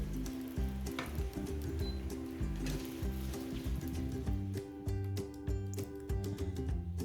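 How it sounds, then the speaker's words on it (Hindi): Bitter gourd frying in oil over a medium flame: a steady close sizzle and crackle with frequent sharp pops, running continuously without any voices. "तकरीबन 6 से 7 मिनट हम इसे ऑयल में मीडियम फ्लेम पर ही फ्राई करेंगे"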